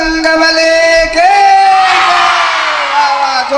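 A large crowd at a Bhagwat and Ram katha religious gathering in Sultanpur roars a loud, sustained chant in unison in reply to a Bajrang Bali call, voices swelling and holding for several seconds.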